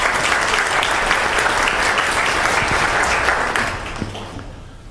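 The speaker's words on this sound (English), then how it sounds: "Big round of applause." An audience at a Constitution Day celebration at San Joaquin College of Law gives a big, sustained round of applause that holds loud and full before tapering off at the end.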